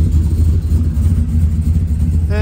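A big-cam LS V8 idles loud and close in a steady, lumpy low rumble with a slight uneven pulse, and no talking is heard.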